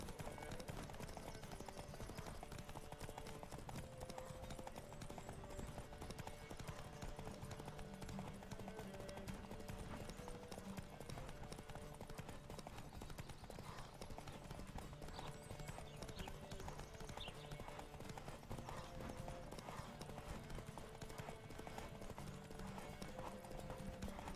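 A horse gallops at a steady pace in the video game The Witcher 3: Wild Hunt, rhythmic hoofbeats thudding continuously and fairly quietly from start to finish.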